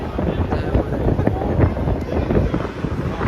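A large fan blows a steady rush of air across a microphone at close range, a rough buffeting whoosh that keeps up throughout, with faint voices underneath.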